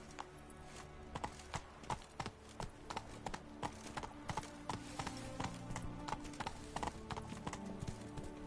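Roach, a horse in The Witcher 3, gallops with rhythmic hoof clip-clops in a steady, driving beat, close and clear from start to finish, quiet in level overall.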